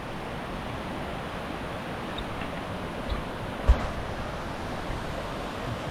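Steady rushing of creek water in a jungle valley on a Tahiti hike to Faurara Falls, a constant broadband wash with one brief knock partway through.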